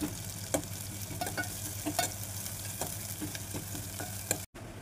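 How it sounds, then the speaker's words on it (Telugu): Onions fry in hot oil in a kadai, giving a steady close sizzle broken by soft scraping stirs, with a brief dropout near the end and no voices. "ఆనియన్స్ దాదాపు వేగుతున్నాయి"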